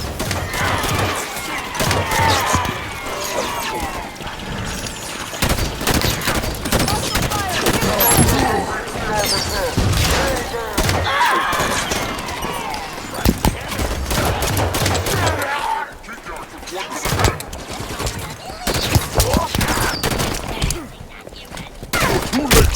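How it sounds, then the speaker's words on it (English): Turret gunfire in the Halo 5: Guardians mission Sword of Sanghelios, dense rapid bursts of shots and impacts running almost nonstop with a brief lull, mixed with battle noise and occasional game voices. "Watch the turret! Could try to flank it."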